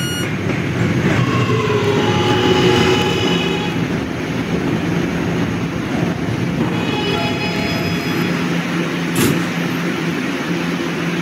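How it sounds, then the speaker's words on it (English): A K line subway train pulls into Fairview Avenue station with a loud, steady rumble of wheels on rail and brief high squeals, close by. "This is a West Baton bound K train."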